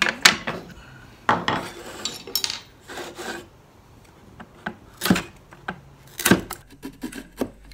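Edge tools scraping and paring the wooden blocks inside a redwood violin body, with sharp, close cutting strokes in irregular bursts separated by quiet pauses.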